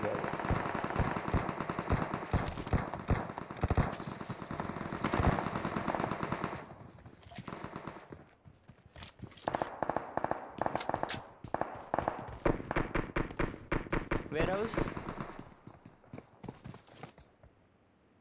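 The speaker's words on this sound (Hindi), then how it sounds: "मेरे पे गन फाइट हो गया।" Gunfight in the mobile battle-royale game PUBG Mobile: rapid bursts of automatic gunfire, loud and close, with pauses, scattered single shots and soft footstep-like clatter between volleys.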